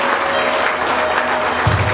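Wedding guests applaud the bride and groom, a dense, steady clapping from a crowd that stays loud throughout, with a low hum underneath and no talk.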